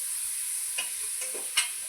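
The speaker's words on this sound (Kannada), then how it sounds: "ಆಲ್ರೆಡಿ ಒಗ್ಗರಣೆಗೆ ಹಾಕವಳೆ ಕಟ್ಟ ಕಟ್ಟ ಅಂತ ಕುಡ್ತಾವಳೆ" Spices for a biryani tempering crackling in hot oil, a steady bright sizzle with a few soft pops and stirring scrapes, fairly quiet and close.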